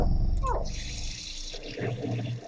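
Water runs from a tap as hands are washed in the horror video game The House 2, a steady hissing stream that starts after a short moment and continues close and fairly loud.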